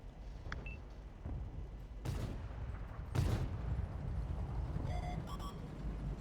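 Tank cannon fire in a Patton tank battle video game, two heavy booming shots with broadband blasts a second apart over a steady engine rumble, followed by faint metallic pings.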